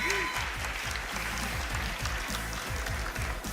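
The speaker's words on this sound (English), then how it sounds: "Game 2, the crowd erupting." A crowd applauds and cheers at a fighting game tournament, with steady clapping throughout, rhythmic pounding thuds underneath and a continuous loud roar from a large audience.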